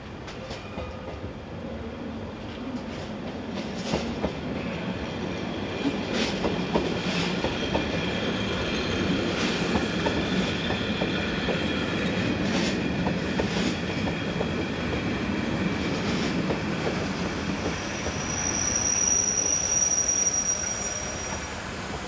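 A Swiss narrow-gauge train from Lauterbrunnen, with new power unit number 325 on the rear, rolls into a station with a steady rumble, clacking wheels and brief squeals, loud and close.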